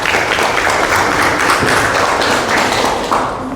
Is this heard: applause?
yes